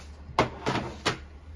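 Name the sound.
drawer of markers being closed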